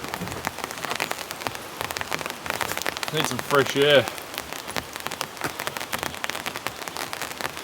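Heavy rain pours steadily outside a rustic remote cabin on a cold night, a dense, continuous patter on the roof and surroundings, with a brief spoken remark partway through.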